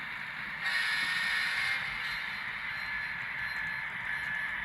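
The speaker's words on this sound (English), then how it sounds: "So blow the horn for you." A Norfolk Southern model train horn sounds in a sustained, nasal blast that starts abruptly, holds steady for several seconds and stays fairly loud and close.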